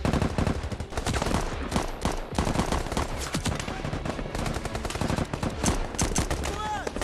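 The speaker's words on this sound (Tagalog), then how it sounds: "Matindi ang putukan." Heavy gunfire rattles without pause, rapid automatic bursts and overlapping shots, loud and close, with a few voices shouting faintly under it.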